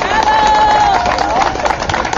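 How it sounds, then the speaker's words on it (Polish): Crowd applause after maturity-exam students dance the polonaise in front of the town hall in Słupsk, a steady outdoor wash of clapping with a sustained whistle-like tone running through the first part. "dla wszystkich tańczących. Brawa!"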